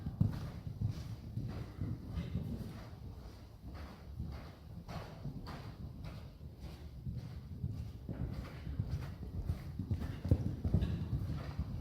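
A horse ridden through a lead-change pattern in a small arena, its hooves clip-clopping in a steady rhythmic gait on soft footing, close and continuous with no talk.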